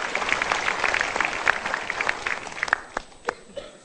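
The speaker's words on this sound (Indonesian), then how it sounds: "Kita berikan tepuk tangan." Studio audience at an Indonesian motivational talk show applauds, a dense patter of claps that thins out toward the end, with scattered individual claps trailing off.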